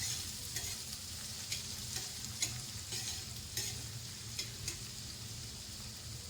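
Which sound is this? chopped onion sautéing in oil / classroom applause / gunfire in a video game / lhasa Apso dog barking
chopped onion sautéing in oil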